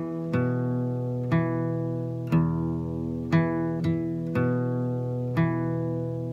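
Acoustic guitar played in a Travis picking pattern at a quicker tempo, with evenly spaced plucked bass notes and ringing strings, clear and alone.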